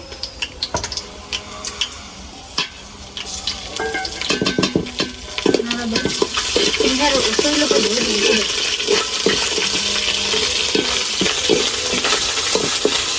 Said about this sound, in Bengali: আমার পেঁয়াজটি তো ভাজা হয়ে গেছে এখন আদা বাটা দিয়ে দিতেছি